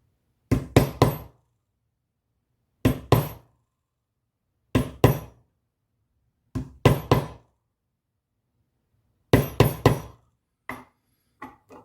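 A metal stamping tool is struck with a mallet to press a basket weave pattern into leather, giving sharp knocking taps in small clusters of two to four, separated by quiet pauses.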